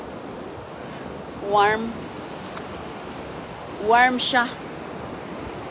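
Wind and sea waves at a warm beach form a steady, loud broadband rush throughout, while a person speaks briefly twice over it.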